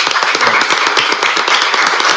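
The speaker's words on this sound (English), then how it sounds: "I would like for us to give Councilmember Marikina an applause, please." A crowd claps steadily in dense, continuous applause, fairly loud and close.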